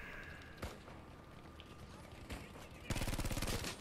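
Gunfire from the Battlefield 5 video game comes as a few isolated shots, then a rapid burst of automatic fire near the end, all set against a low background rumble of battle.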